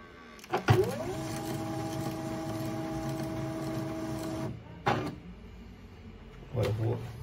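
A Samsung M2020W laser printer starts up and runs a test print on a scrap sheet: a mechanical clunk, then a steady motor whir with a faint high whine for about four seconds, a stop, and a few short clicks and feed noises.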